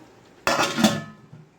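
A metal lid is set onto a cooking pot of chicken tehari, making a single close clattering clank that rings briefly and fades, heard alone.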